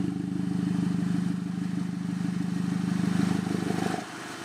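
A car engine idles steadily and loudly through a QTP electric exhaust cutout with a deep, even rumble, then the sound drops abruptly to a much quieter idle near the end as the cutout valve closes.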